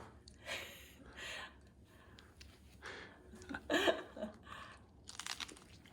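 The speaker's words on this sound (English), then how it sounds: "Then you start eating it." Close chewing and crunching of lentil balls (mercimek köftesi) squeezed with lemon, soft mouth sounds in uneven bursts with a few sharper bites near the middle, fairly quiet and without speech.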